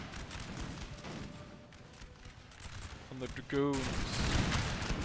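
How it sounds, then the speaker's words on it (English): Musket volleys in the Napoleon: Total War battle of Smolensk crackle as dense rolling fire against Russian troops, swelling louder toward the end, with someone talking over the gunfire. "So much fire going down here on the Russians"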